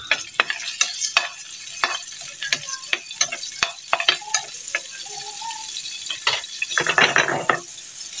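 Garlic dropped into fresh clean oil and frying, a light crackling sizzle punctuated by sharp spatula taps and scrapes against the pan at irregular intervals.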